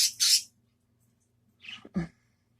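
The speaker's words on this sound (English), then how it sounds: "I think that bird's trying to tell me something." A pet bird calls from its cage with a couple of short, harsh squawks up close. After a quiet gap, a brief vocal sound follows.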